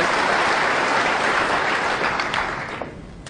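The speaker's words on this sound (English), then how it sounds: "Applause for the pack splitting, or the mini pack." A snooker crowd claps steadily in dense, continuous applause that gradually thins and fades out near the end.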